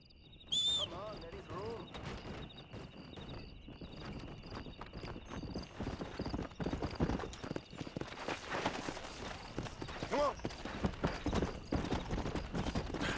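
Horse hooves clip-clop steadily in the video game Red Dead Redemption, a rhythmic run of hoofbeats that grows louder and busier over time, with a brief whinny and a voice talking over the game sound.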